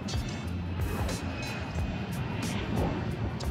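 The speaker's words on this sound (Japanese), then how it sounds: "あ、また飛行機よ" A steady, loud roar of an airplane passing overhead near Haneda Airport, with wind buffeting throughout and no talking.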